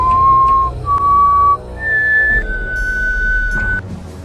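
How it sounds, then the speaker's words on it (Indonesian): A man whistles a short tune of a few sustained, clear notes stepping up in pitch at night in the horror film Pamali: Dusun Pocong, close and fairly loud over a low background hum. "bersiul di tengah heningnya malam."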